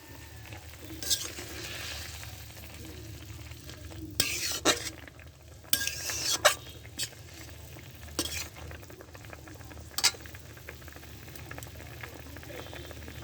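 Fried dannay and parshe fish in a pan for a fish curry, with a steady low simmer and several sharp scraping stirs and clinks of a utensil against the pan, fairly close and quiet, with no talking.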